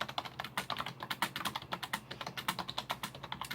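Fingers type steadily on a computer keyboard in a soft-spoken ASMR job-interview role play, producing close, crisp, rapid key clicks with no talking over them.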